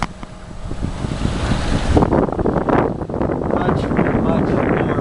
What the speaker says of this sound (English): I got the mainsail back up and cruising